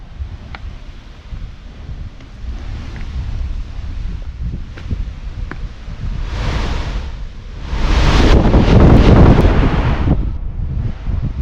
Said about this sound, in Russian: Прибой здесь слышен.